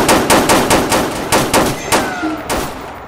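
Rapid bursts of loud, close gunfire during a shooting game at a school, roughly a dozen sharp reports in a fast, fairly even rhythm, ringing and overlapping.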